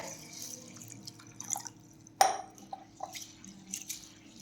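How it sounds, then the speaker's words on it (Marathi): Rice being rinsed in water by hand in a home kitchen: soft sloshes, light drips and trickles, with one sharper splash midway, all quiet and close in an otherwise still room. "तर सर्वप्रथम आता आपण तांदूळ स्वच्छ धुवून घेऊयात"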